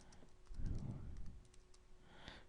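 A computer keyboard being typed on quietly at close range, a short burst of soft, rapid clicks and taps lasting a couple of seconds.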